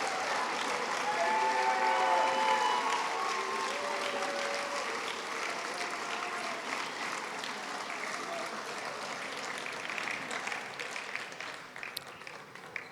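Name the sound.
crowd applauding parents at football reception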